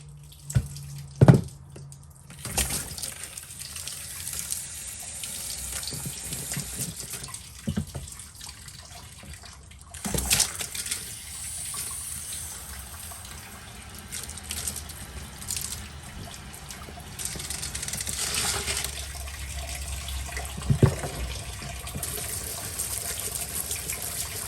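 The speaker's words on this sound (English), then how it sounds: "I forgot to get the air out of my hose first" Water runs from a hose into a sink in uneven bursts, sputtering and gushing with sharp pops as trapped air escapes, then settling into a fluctuating flow with drips and splashes.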